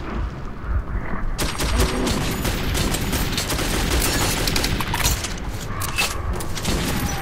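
Sustained loud gunfire from the Metro 2033 video game, dense bursts of shots with booming impacts and mechanical clatter filling the whole stretch, close and continuous.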